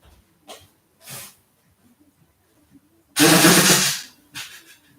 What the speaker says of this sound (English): And not just Levy's breathing and crawling.